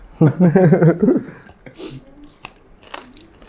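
Crispy fried pork tail dipped in spicy seafood sauce is bitten with a loud, close crunch, followed by quieter chewing and a few crackles; a voice and a murmur are heard around the bites.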